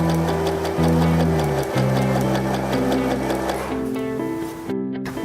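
A sewing machine stitches stretched elastic onto fabric, running steadily with a fast rhythmic mechanical whir and hum for about five seconds before stopping, loud and close.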